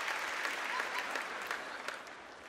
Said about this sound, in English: Hold for applause.